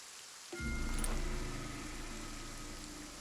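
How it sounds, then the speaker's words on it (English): Rain ambience in the video game Kingdom Two Crowns, a steady soft downpour with a low rumbling undertone that rises suddenly after a brief quiet moment and continues evenly. "This raining ambience is really gonna put me to sleep"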